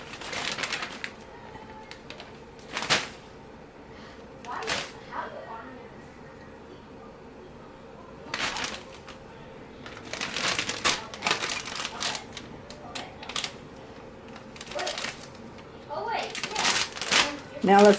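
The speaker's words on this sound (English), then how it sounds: "now we're going to get the pork chops into the baggie." Pork chops go into a plastic baggie with crushed pork rinds, giving intermittent crinkling plastic rustles and crunchy rattles in scattered bursts at close range, with quiet gaps between them.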